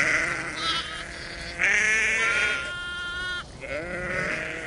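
Primitive sheep bleat several times in a row, the wavering calls clear and fairly close, separated by short quiet gaps with no voices.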